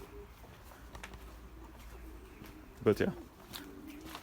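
Belgian racing pigeons coo in a loft, a few soft calls and a louder close coo around the middle, under occasional quiet speech.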